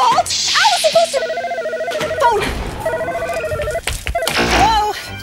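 A telephone rings in a comedy television show, its tonal bursts repeating over roughly five seconds beneath steady overlapping talk and background music.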